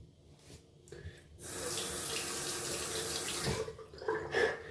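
Tap water rushing steadily from household pipes into a sink, close and fairly loud, starting after a few soft handling sounds and easing near the end.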